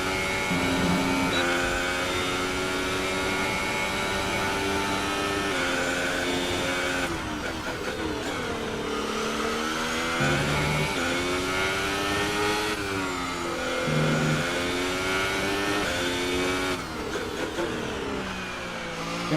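A Formula 1 car engine in the F1 2018 video game screams at high revs, rising and falling through gear shifts and downshifts as the car brakes and accelerates, loud and continuous throughout.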